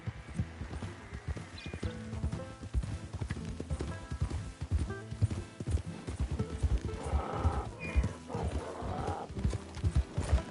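Donkey hooves clip-clop steadily in Red Dead Redemption 2, with an even rhythm of close, moderately loud footfalls alongside ambient game sounds over about ten seconds.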